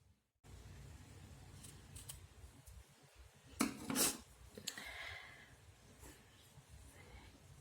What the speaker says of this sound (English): I'm going to cut off this yarn first